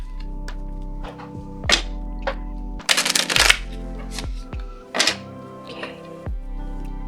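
Tarot and fairy cards are shuffled and drawn, with several quick riffling bursts and soft thumps of cards set down over a low steady hum, close and moderately loud.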